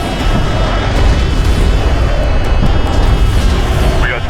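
A bomber blowing up in the space strategy game Homeworld: Deserts of Kharak, a loud, rumbling boom that rolls on for several seconds alone, with a faint tone ringing through it.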